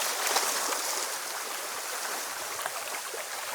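Waves and open water on a large lake at Hartford Beach State Park, South Dakota, make a continuous broadband wash, steady and fairly close, with no voices.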